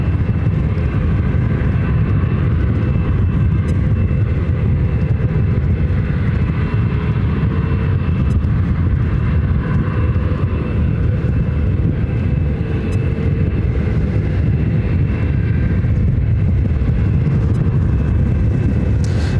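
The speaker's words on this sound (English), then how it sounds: "The American A321 flight coming from Dallas, Fort Worth, Texas, now heading to the gates." An American Airlines A321 airliner taxis to the gates at Ontario airport, California, a loud, steady low jet rumble and whine that holds unchanged throughout, with no talk.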